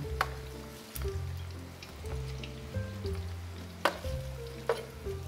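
Lion's head meatballs fry in a pan over medium-low heat with a soft continuous sizzle. Light crackles and a few sharp taps of utensils break through it, with no one speaking.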